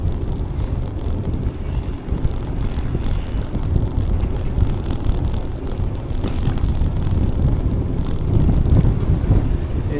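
Steady wind roars across the microphone of a bicycle heading into the wind along the coastal Pier to Pier Way from Weston-super-Mare toward Clevedon, a continuous low rumbling buffet that swells slightly toward the end, with no voices.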